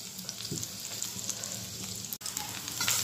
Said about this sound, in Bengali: তো পেঁয়াজটা আমার ভাজা হয়ে গেছে।